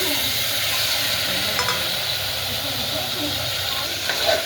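Mutton with turmeric and salt stirred in a hot pan over roasted ginger and garlic, a steady sizzling hiss with occasional scraping, close and continuous throughout.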